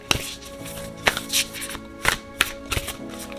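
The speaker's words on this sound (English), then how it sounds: "So we're going to go ahead and shuffle." Oracle cards from a Fairy Temple oracle deck being shuffled: a series of crisp riffling taps and soft snaps in irregular bursts, close up and moderately loud, with no talking over them.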